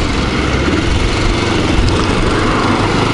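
Kawasaki EL250 motorcycle engine while riding, a loud, continuous droning rumble with wind noise and no speech.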